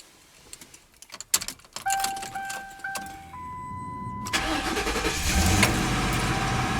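A Ford Crown Victoria heard from the driver's seat: keys jingle and dashboard chime tones sound before the engine cranks and catches abruptly, settling into a steady close running rumble.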